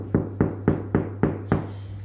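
Six evenly spaced knocks on a freshly baked homemade sourdough loaf, each a resonant hollow thump close up, alone over a faint steady hum.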